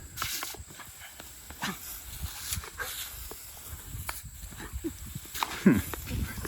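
A dog moves around outdoors with scattered scuffling, footsteps and splashy noises, plus a brief whimpering or squeaky vocal sound near the end.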